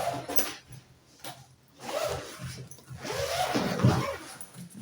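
A zipper is drawn along a suitcase compartment in several short, raspy pulls separated by pauses, close by and fairly quiet.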